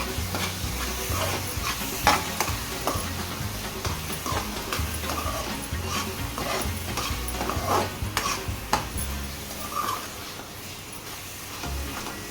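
Kalakand mixture with ghee is stirred steadily in a pan, a continuous close scraping and shuffling with a soft sizzle underneath and occasional sharper knocks of the spoon.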